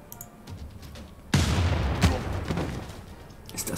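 Single cannon blast knocking down a city wall in Civilization 6, a sudden loud boom with a rumbling, crackling tail that trails off over a few seconds, set over soft background game sound.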